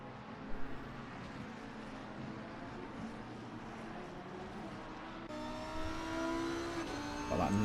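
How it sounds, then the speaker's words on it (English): Sim-racing engines at Suzuka, a Lamborghini's high squeal and a Ford Mustang's deeper grunt, drone steadily at moderate level before a louder, brighter surge of revving engines takes over near the end. "That nice squeal of the Lamborghini, but you can see the grunt of the Mustang gaining"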